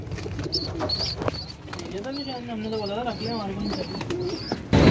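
Pigeons coo repeatedly in soft, rolling calls at close range while about ten of them fly around a home bird setup, with chirps and a sudden burst of wing or handling noise near the end.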